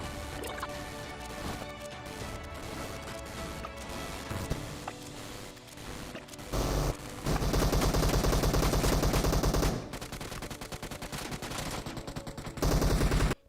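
Automatic gunfire in the PUBG video game rattles in long rapid bursts, loud and dense, stopping and restarting several times until the magazine runs dry, over a layer of game music and effects.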